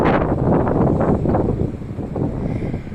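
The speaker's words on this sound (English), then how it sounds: "Ooh, it's windy." Gusty wind buffets the microphone in heavy, rumbling bursts that ease slightly toward the end.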